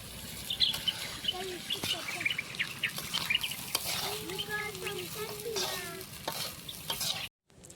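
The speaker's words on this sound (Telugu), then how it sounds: "వండిన అన్నానికి తాలింపు వేస్తున్నా." Sizzling tempering of cumin stirred into cooked rice for jeera rice, a continuous frying crackle with repeated spoon scrapes in the pan, birds chirping faintly in the background, ending abruptly.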